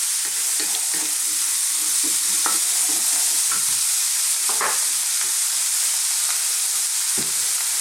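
Chickpeas and mushrooms fry in a pan with turmeric and chili powder, giving a steady close sizzle broken by repeated scraping stirs throughout, with no talking.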